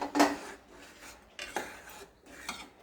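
A spoon stirring in a pot of boiling water for tomato upma while something is poured in slowly, giving soft repeated scraping and clinking strokes, close and fairly quiet with no talk.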